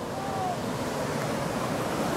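Ocean surf rolls onto a beach in São Paulo, a steady broadband wash of waves mixed with wind buffeting the microphone, continuous and fairly close.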